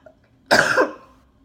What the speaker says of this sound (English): It's really the cough.